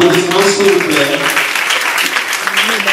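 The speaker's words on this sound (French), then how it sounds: "madame Etienne Sarah Diane, sous vos applaudissements, s'il vous plaît." Applause breaks out at a school pageant at a lycée in Abobo, rising under a speaker's voice that trails off at the start and then continuing as steady clapping.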